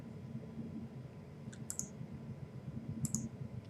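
Two quick pairs of crisp mouse clicks while working in analysis software, close and sharp over a low background hum, no talk.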